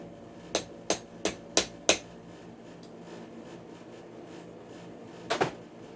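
A hammer knocks a piece out of a Nantucket Breeze stand fan during repair, with five sharp, evenly spaced strikes, a pause, then a quick double hit. The taps ring against a steady low background hum.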